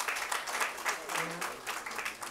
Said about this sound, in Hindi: जोरदार तालियों के साथ हम स्वागत करें